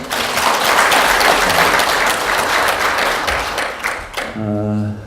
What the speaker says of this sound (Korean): 우리 다 함께 우리 학생들에게 큰 박수 한번 부탁드리겠습니다.